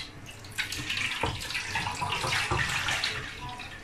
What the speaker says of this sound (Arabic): هحط عليها شويه ميه